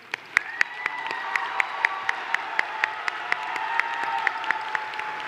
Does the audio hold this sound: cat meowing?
no